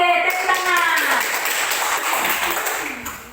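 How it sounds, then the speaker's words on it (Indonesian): Classroom children clap their hands together in a dense, fast patter close by, fading toward the end, mixed with a few young voices. "Oke, tepuk tangan."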